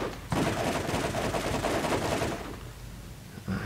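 Rapid automatic gunfire in the Borderlands video game, a loud sustained burst of shots for about two seconds that then trails off into quieter echoing fire.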